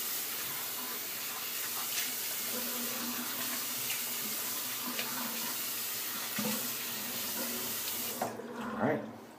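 Tap water runs steadily into a bathroom sink for a rinse after shaving, a close, even hiss with small splashes, broken near the end by louder sloshing.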